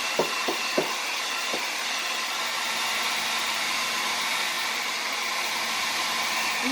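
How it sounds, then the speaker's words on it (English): A handheld blow dryer runs continuously at close range over wet paint on a pointillism heart painting, a steady loud whooshing hiss after a few quick taps at the start. "And you want to move your blow dryer around just a little bit so it doesn't get too hot in any spot."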